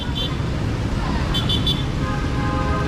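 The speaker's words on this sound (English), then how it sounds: "the cable car's going over the traffic, and look how stressful the traffic is" Busy street traffic in Santo Domingo roars steadily beneath a passing cable car, with a few short car horn toots cutting through and someone talking over the din.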